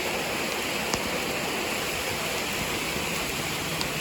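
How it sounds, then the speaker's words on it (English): Heavy rain in Pennsylvania pours down in a dense, continuous roar of broadband hiss, steady and loud, with a couple of faint clicks and no voices. "It's only raining harder and harder."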